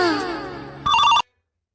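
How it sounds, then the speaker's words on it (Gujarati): A phone rings out while a call to a friend connects: a brief, loud electronic ring tone that ends abruptly into silence. "ઉપર ભાઈબંધને ફોન કરવા દે."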